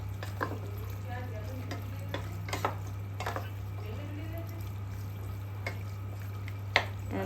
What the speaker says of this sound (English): We'll just mix it well.